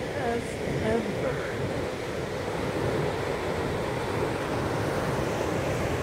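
Steady surf washes in continuously at Coast Guard Beach, Eastham, near sunset, with a broad rushing roar and some wind noise, no distinct individual wave breaks standing out.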